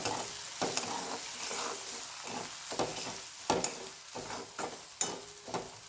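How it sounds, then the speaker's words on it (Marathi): Spices sauté in a hot pan for pav bhaji, a steady close sizzle broken by irregular scraping and stirring strokes of a spoon. "एवढे दोन मी मसाले टाकते आणि जास्त टेस्ट येते आता हे आपण चांगलं परतून घ्यायचं"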